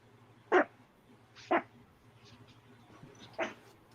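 A dog gives three short, sharp barks spaced about a second apart, close but fairly quiet, over a low steady hum.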